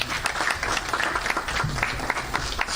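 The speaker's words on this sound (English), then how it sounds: "A round of applause again for her." Audience applause at a youth leadership conference in Paris, a steady burst of many hands clapping together, moderately loud and sustained for the whole span with no talking over it.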